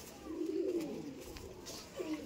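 Andhra Kalanka pigeons from a breeding pair give two low, rolling coos close by, one early and one near the end, with soft background noise between them.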